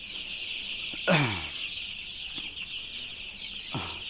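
Chickens on a home poultry setup cluck in a few short, rising calls, one louder burst near the start and softer ones later, over a steady high insect-like hum in the background.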